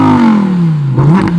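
A Lamborghini Huracan Performante's naturally aspirated V10 exhaust roars loud and close, its pitch falling smoothly as the revs drop, then catching a brief blip and crackle near the end.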